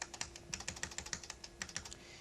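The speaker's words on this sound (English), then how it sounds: "we can use the arrow keys to adjust this" Repeated key presses on a computer keyboard, likely arrow keys, tap out in a quick, uneven run of close, crisp clicks with no voices.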